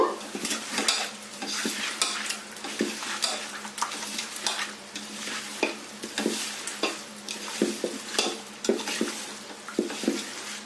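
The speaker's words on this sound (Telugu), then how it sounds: "టూ పా రెండు పావుల ఆయిల్ వేసుకొని కలుపుకుందాము" Chicken biryani marinade is mixed with oil in a bowl, giving a steady rhythm of wet squelching strokes and clicks of a spoon against the vessel, close and fairly loud, with no talking.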